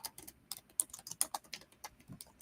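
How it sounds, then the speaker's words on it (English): Quick, irregular clicking of keys on a computer keyboard, close and quiet, with short bursts and small pauses and no voices. "Oh, I was already typing it."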